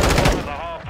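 Rapid M4 assault rifle fire in Modern Warfare 2, a dense burst of loud close shots at the start that thins into a softer tail with game effects.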